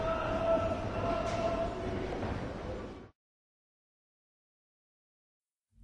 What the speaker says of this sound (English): The train started moving as everything came back in order.